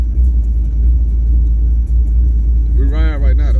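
A car with a shift kit installed, heard from inside while riding, gives a deep, steady low rumble. A voice speaks briefly near the end.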